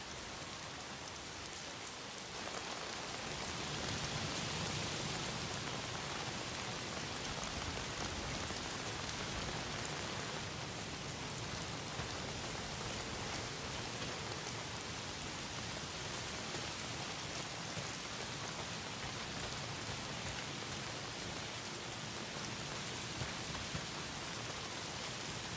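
Rain falls steadily throughout in the Days Gone video game, a dense, even hiss of drops on surfaces that stays constant and moderately soft for the whole stretch, with no voices.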